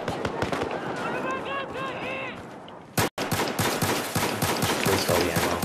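Gunfire in the video game Battlefield 4, a dense, continuous stream of loud shots with a brief break midway, then rapid firing resumes; a voice talks over the early part.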